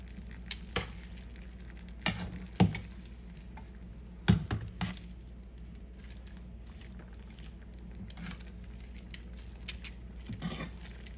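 Seasoning for fried yellowtail snapper is stirred and mixed in a bowl, soft wet squishing over a low hum, punctuated by a few sharp utensil clinks against the dish, close and without talk.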